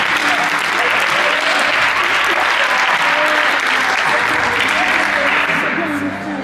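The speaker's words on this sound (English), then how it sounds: "Give them both a big round of applause." Loud, steady applause from an audience at a high school post-prom show fills the whole stretch, dense and continuous, with voices mixed in the crowd noise.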